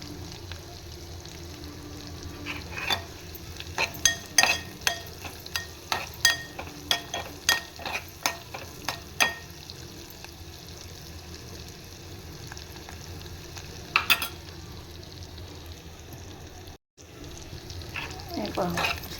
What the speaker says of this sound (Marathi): छान परतले जाते बोंबील.